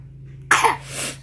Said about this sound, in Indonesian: mas kayak batuk kan?